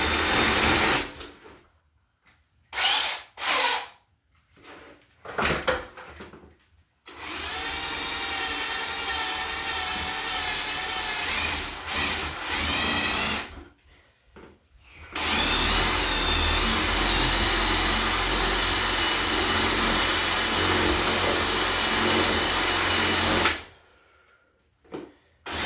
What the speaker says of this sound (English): We're going to drill this big hole in the middle to put our wires through.